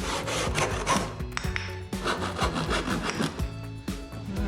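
A saw rasps back and forth through wood for a toolbox in steady repeated strokes, close and loud, with no talking.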